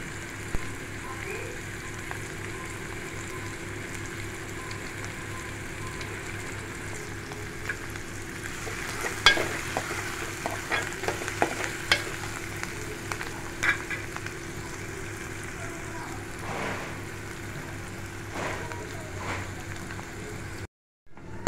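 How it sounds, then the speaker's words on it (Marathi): Onions frying in a pan for a village-style vegetable dish, a low steady sizzle with intermittent scraping stirs, moderately close and fairly quiet. "तर सर्व आपण हा कांदा एक 5 ते 7 मिनटं परतवून घेऊया"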